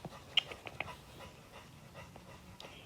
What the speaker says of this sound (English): I wonder if you guys can hear my dog panting.